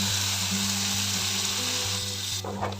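Banana stem and lentil paste hit a hot pan of oil, turmeric and sugar, giving a steady close sizzle and frying hiss that runs through the whole moment, with a brief stirring clatter near the end.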